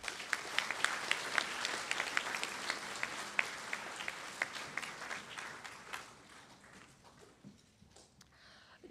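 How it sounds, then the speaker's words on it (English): Audience clapping at a business meeting general session, a moderate round of applause from a crowd that fades out over the final few seconds. "Please give her a round of applause."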